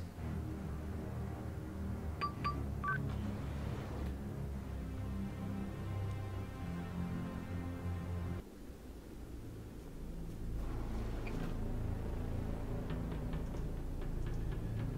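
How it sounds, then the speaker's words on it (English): Keypad button tones from the Gabriel Knight 20th Anniversary Edition video game: a few short, clear electronic beeps over a steady bed of ambient game noise, with no talking. "Try the keypad on room 4."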